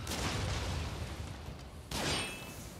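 Gunshot in the video game Nioh 2, a sudden sharp burst with a clattering impact midway through, amid a noisy rumbling battle background.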